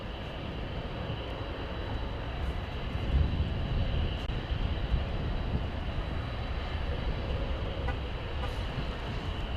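Airliner departing Dallas/Fort Worth Airport, heard as a steady, broad roar of jet engine noise that swells slightly partway through and holds throughout, fairly distant with no talk.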